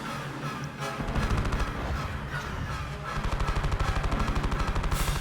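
Rapid automatic blaster fire rattles in Star Wars Battlefront 2, sustained bursts of rhythmic shots with dense repeated pulses, loud and continuous across the battle.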